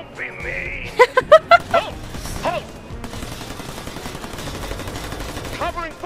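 Gunfire crackles in a shooter video game, a quick burst of loud shots followed by sustained rattling fire and clatter, with voices calling out over it.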